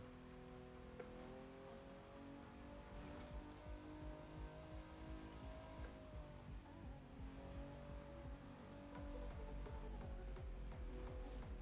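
A car in the racing video game The Crew 2 drives steadily at speed, with a continuous engine drone, rapid clicking texture and occasional tire squeal, heard alone without talk.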